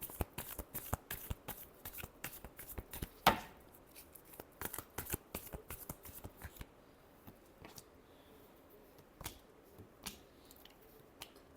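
Tarot cards are shuffled by hand in a quiet room, a long run of crisp, rapid riffling and flicking taps with one louder snap near the start, close and alone with no voices.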